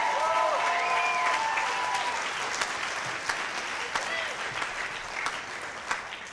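A concert audience bursts into sustained applause as a performer is introduced at a tribute show, dense clapping throughout with a few sharper claps and faint whistles standing out near the end.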